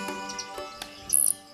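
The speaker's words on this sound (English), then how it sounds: "There were chaffinch, goldfinch, and winter wrens all calling actively, singing to attract partners." Chaffinch, goldfinch and winter wrens call in cork woodland, giving a few short, thin chirps and a quick trilled flourish close by, heard briefly over a soft musical background.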